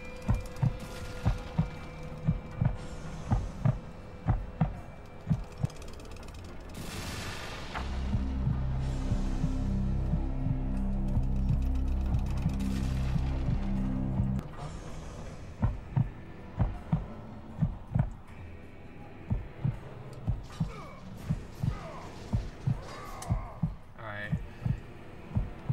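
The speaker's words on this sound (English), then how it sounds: "Again, just ignore this heartbeat." Steady thumping heartbeat from the PS2 game God of War 2, pulsing in a regular rhythm throughout, with a denser, louder rumbling stretch in the middle.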